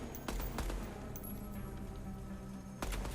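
Gunfire at a firing range in the Deadrop shooter game makes a dense, continuous rattle of rapid automatic shots with a few sharper cracks standing out, loud and steady.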